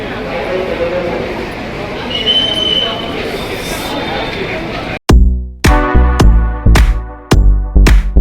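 An Ahmedabad metro train rumbles with a thin wheel squeal for several seconds, then loud, close voice bursts cut in and dominate.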